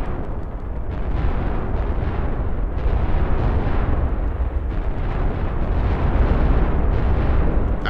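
Nuclear bombs strike a planet in a simulation game, producing a continuous loud, booming roar of overlapping explosions with dense rumbling and repeated bursts throughout and no voices.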